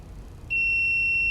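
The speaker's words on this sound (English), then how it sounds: "Beep indicates the end of the wash" An automated slide-cleaning washer for cell counting sounds a single sustained high-pitched electronic beep at the end of its wash cycle, starting abruptly after a moment of quiet hum.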